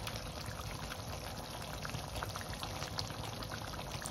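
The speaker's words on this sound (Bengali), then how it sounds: "নাড়িয়ে এটা আমি একদম স্লো আঁচে কুক হতে দেব, যাতে খুব ভালো করে কাঁকড়াগুলো সিদ্ধ হয়ে যায়।" Crab curry in coconut milk simmers over a low flame, giving a steady close bubbling and sputtering that holds an even level for the whole stretch, with no voices.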